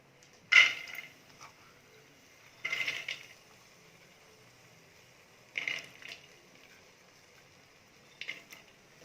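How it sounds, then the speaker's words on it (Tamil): About fifty grams of soaked, washed chana dal is tipped into a cooking pot for a vegetarian lunch, giving four short, quiet rattling splashes spaced a few seconds apart, with no talk. "இப்போ கடலப்பருப்பு போட்டுக்கலாம்"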